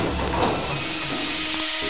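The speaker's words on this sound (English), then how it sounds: "Now we need to avoid the steam." Steam hisses steadily from a pipe in the Deus Ex video game, a continuous broadband rushing hiss with no talk over it.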